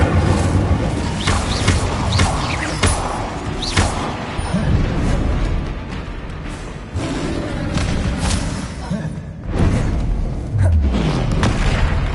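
The Incendio fire spell in Hogwarts Legacy bursts in a dense run of loud booms and whooshing flame rushes, with thuds and blasts overlapping through a busy game soundscape and brief voice bits.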